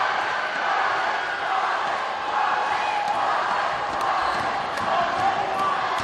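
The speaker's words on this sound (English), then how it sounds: "The student section cheering Wallace Nord's name now." A high school student section roars steadily at a boys basketball home game in a gym. The crowd noise stays loud and continuous throughout, with no clear breaks.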